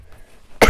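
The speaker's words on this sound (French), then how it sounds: "Il y a quelqu'un qui tousse." A single sharp cough bursts out near the end after a quiet stretch, loud and close.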